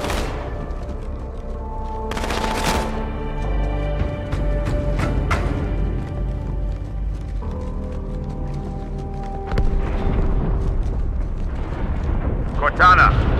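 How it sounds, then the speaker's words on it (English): A rumbling explosion in the video game Halo 2: Anniversary, aboard a space station, arrives as a burst of heavy booms amid a sustained score and layered game effects, with further blasts building toward the end. "That explosion came from inside the Athens."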